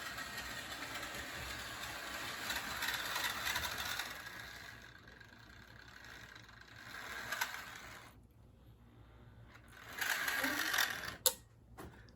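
Old model train locomotive motor running steadily with a faint clackety mechanical rattle, a continuous whirring hum that dips briefly and returns, with a sharp click near the end.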